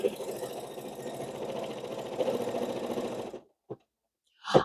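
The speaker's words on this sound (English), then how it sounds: "Now we'll stitch a little rectangle, and this is my cut line for turning it." An embroidery machine stitches a small rectangle on fabric, a steady close mechanical whir with rapid needle pulsing for about three seconds, stopping abruptly, then followed by two brief clicks.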